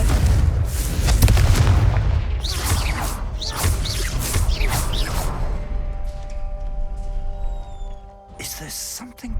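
Booming spell blasts from the Confringo fire curse in the Hogwarts Legacy video game, a dense run of loud explosive bursts and whooshes over the first half that gives way to a quieter ringing tail, with one more sharp burst near the end.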